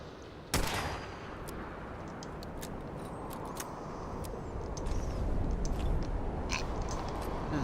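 Shots from a highly modified revolver in a wasteland survival video game: one loud close report near the start, then a bed of rumbling ambience with faint clicks and scattered distant pops.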